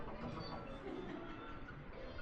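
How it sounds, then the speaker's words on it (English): A model toy train runs along a miniature track in a detailed model layout, giving a faint, steady rumbling whir with no voices. "Oh, the train is coming, Spence."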